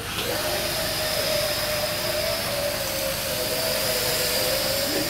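A steady, loud aircraft engine whine from the plane in Black Ops 2, a continuous jet-like roar with sustained high tones and no talk.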